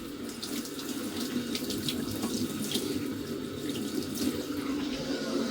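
Hot water runs steadily from a tap fed by a Biasi combination boiler with a low hot water flow rate, a close, continuous rushing splash into a sink.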